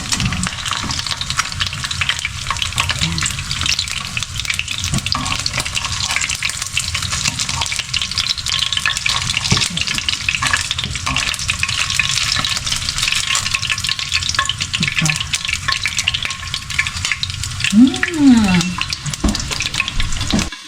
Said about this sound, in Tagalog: after that, then I have to continue cooking the veggies.